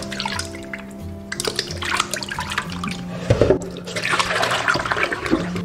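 Running water splashes and sloshes as pork tripe is rinsed by hand, an uneven, close-up wash of trickling and splashing under a faint steady hum.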